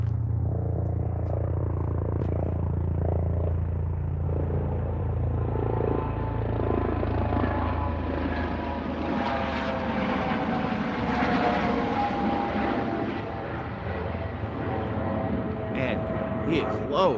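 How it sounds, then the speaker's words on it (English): A U.S. Coast Guard helicopter flying very low overhead, a loud continuous engine and rotor rumble that swells and shifts in pitch as it passes, steady throughout with no talking. "I hear a helo."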